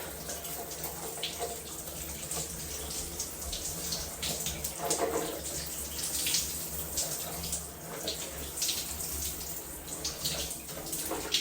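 Cold shower water running steadily in a home bathroom, a continuous broadband hiss and splash that holds close and fairly loud throughout, with brief louder surges as the spray shifts.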